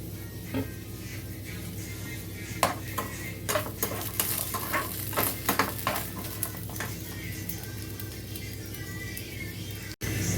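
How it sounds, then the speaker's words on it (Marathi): Grated coconut roasting in a hot pan with a little oil and sesame seeds, giving a soft continuous sizzle and scattered scraping clicks of a spatula stirring, close by, with no talking. "खोबरं भाजताना इथं थोडंसं तेल घालणार आहे मी."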